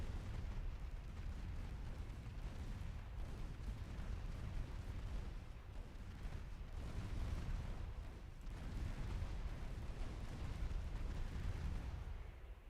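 Naval gunfire and shell explosions in the warship game Ultimate Admiral Dreadnoughts build into a dense, continuous rumble of booms and blasts, loud and layered with no pauses.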